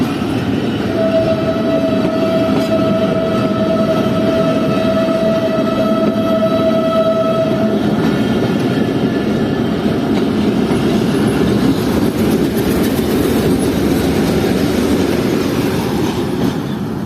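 Locomotive RGE25-122 with its passenger train at Chaman station, a loud steady rumble of rolling cars and wheels with a sustained whistle-like squeal or horn tone for several seconds, continuing throughout without talk.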